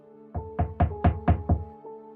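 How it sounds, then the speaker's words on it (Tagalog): Someone knocks on a wooden door in six firm, evenly spaced raps, close and loud, followed by a fainter tap, with no voices. "Maya-maya pa, nariyan na naman yung kumakatok tapos mas malakas pa."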